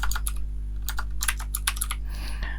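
Names are typed into an Excel sheet on a computer keyboard: quick clusters of close, crisp key clicks with short pauses between bursts, over a low steady hum.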